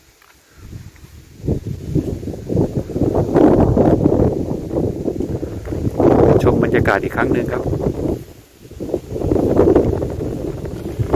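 Gusting wind buffets the microphone in heavy rumbling bursts at a mountain viewpoint near Bo Kluea, Nan Province, Thailand, just after rain, with someone speaking intermittently in Thai over it.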